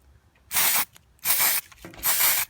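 A can of spray paint hisses in three crisp, evenly spaced short bursts onto a tumbler cup, loud and close with quiet gaps between.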